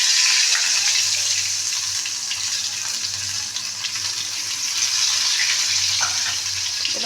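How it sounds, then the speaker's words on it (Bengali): Water poured into a pan of fried rohu fish with black cumin, a loud continuous rushing hiss and bubbling sizzle up close, with no talking. "মাছগুলো যেহেতু আমার ভাজা হয়ে গেছে, এবার জলটা দিয়ে দেবো"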